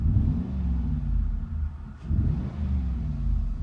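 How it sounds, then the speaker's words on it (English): A Lexus GX470 SUV with an aftermarket aFe Power intake, heard from inside: a deep, steady engine rumble swelling slightly as throttle is applied, with a brief dip midway. "you definitely hear the intake a lot more than the factory one when you give it some gas"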